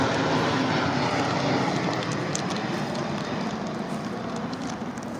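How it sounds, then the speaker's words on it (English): An airplane passes overhead with a loud, steady broadband roar of engines that fills the scene and slowly fades a little over several seconds. "Okay, that plane was fine."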